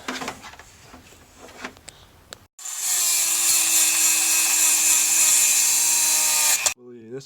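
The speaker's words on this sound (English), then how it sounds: "So I'm going to try and Dremel them out." A Dremel rotary tool grinds out factory headless bolts on a rallycross car, a loud steady high-pitched whine running for about four seconds after quieter handling noise and faint talk, then cutting off abruptly.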